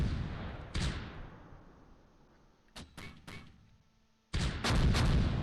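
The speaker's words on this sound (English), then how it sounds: "mortars are dropping" Mortar shells land in the Close Combat video game as a series of loud, close thumping blasts: one early, a quick pair near the middle, then a heavy cluster at the end, each trailing off into rumble.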